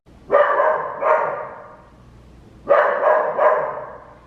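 Two pairs of loud, close dog barks, each pair quick and sharp, separated by a short quiet pause.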